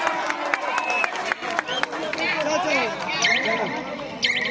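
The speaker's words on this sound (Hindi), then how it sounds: "ताली बजाइए, जोरदार तालियां।" Crowd at a village kabaddi match cheers and claps after a strong tackle, a dense continuous roar of chatter and applause with whistles and calls mixed in.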